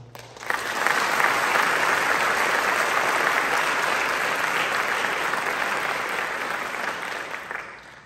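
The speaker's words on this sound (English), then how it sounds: "And I just want to give a round of applause to them real quick." A concert audience at a school spring band concert gives a round of applause for the trombone players, a loud, dense wash of many hands that swells quickly, holds steady for several seconds, then fades at the end.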